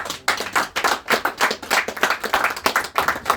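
Clapping from a magic lecture audience after a card trick, a dense steady patter of many hands close by, running the whole time with no voices over it.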